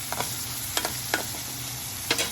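Onions sautéing until brown in a pan, a steady close sizzle broken by a few sharp scrapes of a spatula stirring, no voices.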